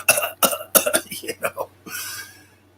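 Someone coughs at the opening of Black Sabbath's "Sweet Leaf", a run of several close, loud hacking coughs in quick bursts, then a breathy, airy exhale that fades out.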